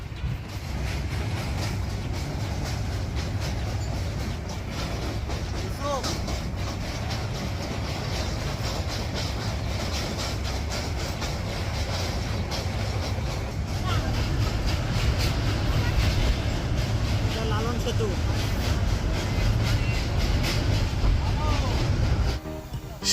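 A train runs along the rails over Hardinge Bridge across the Padma river, giving a steady, close rumble and rattle that holds evenly from start to end.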